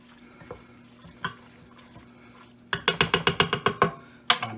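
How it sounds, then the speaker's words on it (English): Stirring fried bacon and smoked meat in a pot for Hungarian székelykáposzta: a spoon scrapes and clatters against the pot in a rapid run of about ten sharp strokes, then one more scrape, over a faint low hum. "Now, before I put it back on the heat, I'm going to stir that stuff in there nice and good."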